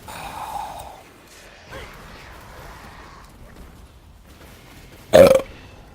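A single loud, rasping burp bursts out near the end, after several seconds of quieter breathy sighs and murmurs close to the microphone during a Destiny 2 gaming session.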